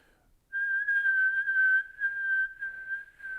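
A person whistles a single sustained clear note with gentle vibrato, its loudness pulsing softer and louder without much change in pitch, close and alone after a brief quiet start.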